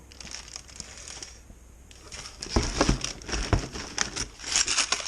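Packing paper is crumpled and crinkled by hand while headlight lenses for a Datsun 280Z are unpacked, the crackling close and quiet at first, then growing into louder, busier bursts.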